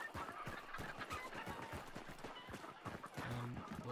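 Crows cawing in a zombie video game, a run of rough, repeated caws and flapping-like bursts packed close together over a steady game backdrop.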